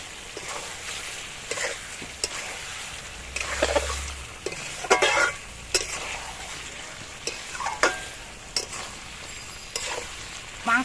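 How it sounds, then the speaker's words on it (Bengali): Meat curry with potatoes just added is stirred in a hot pan, a spoon scraping and clanking against the metal at irregular intervals over a steady frying sizzle, close and clear, with no talking. "এবার মাংসের মধ্যে আমি আলুটা দিয়ে দিলাম"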